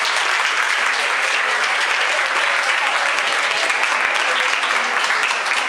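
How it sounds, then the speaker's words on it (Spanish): Dense, steady audience applause fills a university senior program's opening ceremony, a continuous wash of many hands clapping without pause. "recibamos con un fuerte abrazo y aplauso a Jordi."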